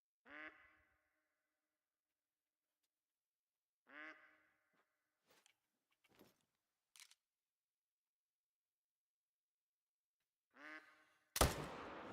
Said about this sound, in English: Holy ducks.